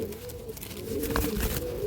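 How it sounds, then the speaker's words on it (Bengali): A Tatira pigeon coos softly in a low, drawn-out call, fairly close, over a continuous low background hum. "টাটিরা পায়রা খুব কম পাওয়া যায়"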